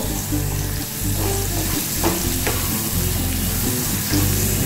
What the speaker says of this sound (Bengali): এটাকে একটু ভেজে নেব।